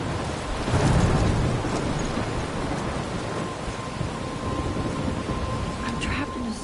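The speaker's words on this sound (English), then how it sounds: "I'm trapped in a storm?" A video game storm rages with a dense wash of rain and low rumbling thunder swelling near the start, steady and fairly loud, as a voice speaks over it.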